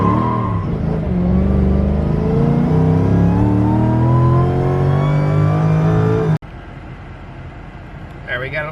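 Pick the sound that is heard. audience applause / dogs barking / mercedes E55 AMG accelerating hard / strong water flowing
mercedes E55 AMG accelerating hard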